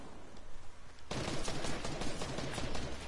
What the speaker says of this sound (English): They're really shooting me, bro.